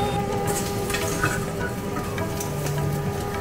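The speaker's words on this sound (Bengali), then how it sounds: "এবার মা সমস্ত কিছু মশলা টশলা কষিয়ে যা দেওয়ার" Spices sautéed in a pan with fried snails, a steady sizzle and frying crackle with occasional stirring scrapes and no talk.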